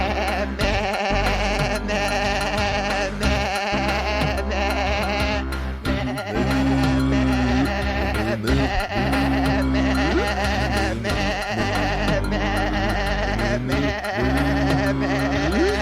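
Sheep bleats sound in a barnyard-themed children's song, repeated wavering 'baa' calls that ride over a bouncy musical backing with a steady beat. Singing voices join in between the bleats.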